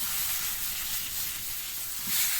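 Baby potatoes tossed in gravy in a hot pan give a steady close sizzle and hiss, swelling briefly near the end as the pan is shaken.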